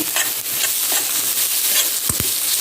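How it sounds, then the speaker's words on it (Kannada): Cumin seeds and curry leaves sizzle and crackle in hot oil in a pan, a loud continuous frying hiss with sputtering pops and a couple of stirring scrapes near the end. "ಜೀರಿಗೆ ಮತ್ತು ಸ್ವಲ್ಪ ಕರಿಬೇವನ್ನು ಹಾಕಿಕೊಳ್ತಿದ್ದೇನೆ ಹಾಕಿದ ಮೇಲೆ ಒಳ್ಳೆ ಉರಿಯಿದೆ"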